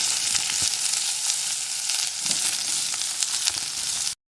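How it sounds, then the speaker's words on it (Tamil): Onions sauté in a pan with mustard seeds, urad dal and fenugreek, a close, steady sizzle with light stirring taps, cutting off abruptly near the end. "இப்போ நான் அது கூட வெங்காயத்தை ஆட் பண்ணி வதக்கிக்கிறேன்"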